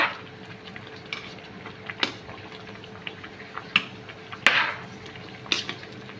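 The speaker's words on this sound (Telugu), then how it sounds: "ఇక్కడ రైస్ అయితే ఉడికిపోతుంది అనమాట ఉడుకుతా ఉంది" Rice cooking in a pot for mutton rice, a soft continuous bubbling and simmering bed broken by several sharp clinks and scrapes of utensils at irregular intervals, close by with no talk.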